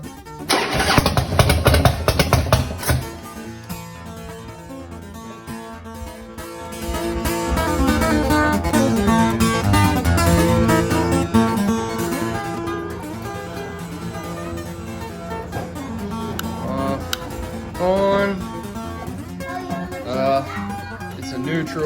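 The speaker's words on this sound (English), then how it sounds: "what I think a bad starter sounds like, because it's kicking back" A Harley-Davidson Dyna Twin Cam with a bad starter kicks back as it cranks, with a loud burst of starting noise followed by a sustained, uneven engine drone that rises and falls.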